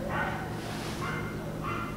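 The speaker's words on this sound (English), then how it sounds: "this dog is really gonna bark through my intro" A dog barks three times at roughly even intervals indoors, moderately near, over a continuous background hum.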